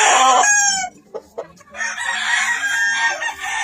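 Sweater McGinnis Grey gamefowl clucking close by, a rooster's loud drawn-out calls, then a pause with a few short clucks from the hen before the calls resume.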